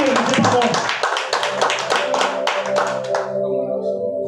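A church congregation claps to acclaim Jesus, rapid crowded applause that thins out toward the end, with voices speaking over it.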